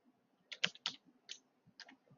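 Keys clack on a computer keyboard as a web address is typed, about six crisp, close strokes in an uneven rhythm separated by short pauses, with no talking.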